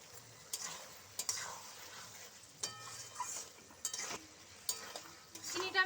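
Sugar being stirred into a cauliflower stem curry in a pan, quiet repeated utensil scrapes and taps at irregular intervals over a faint low sizzle, close and soft with no talking.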